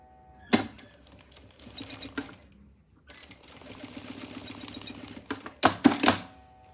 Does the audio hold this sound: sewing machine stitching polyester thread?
yes